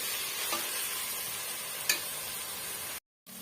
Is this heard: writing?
no